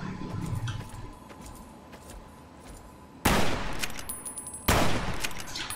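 Gunfire in the Fallout: New Vegas video game, aimed at a floating flamer: two sharp, loud shots stand out over a steady background din, with fainter rapid cracks before them.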